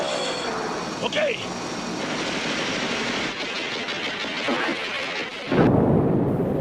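A helicopter is shot down during a battle scene in The Gods Must Be Crazy. Aircraft noise drones under a voice talking, then a loud, rumbling burst like an explosion hits near the end.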